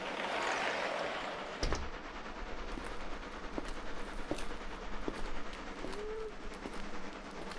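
Moving train as a radio-drama sound effect: a steady rumbling carriage roar with faint rhythmic clicks and a brief squeal near the end, continuous and alone without voices.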